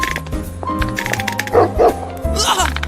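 A dog in an English-dubbed anime barks and yips in a few quick bursts, layered over background music and voices from the show.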